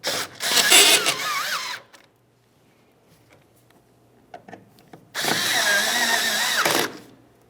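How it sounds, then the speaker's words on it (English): Power drill driving the mounting screws of a replacement taillight on a 2005-2010 Dodge Dakota: two loud whirring bursts close by, separated by a quiet pause with small handling clicks, and no talk. "continue on to your 2 mounting screws. We'll start each of these in before we snug either of them."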